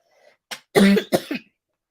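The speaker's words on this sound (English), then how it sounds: "Forgive me, my cough is really bad lately." A few sharp, harsh coughs in quick succession, close up, followed by a short throaty catch, alone in quiet.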